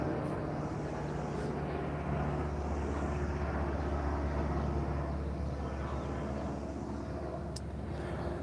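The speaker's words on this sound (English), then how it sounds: "let's just wait for the plane to pass." Steady low broadband roar of an airplane passing overhead outdoors, a continuous rumble that holds evenly throughout without talk.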